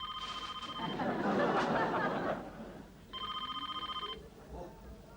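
A telephone rings in two trilling bursts with a pause between them, while people chatter and laugh in the background during the gap.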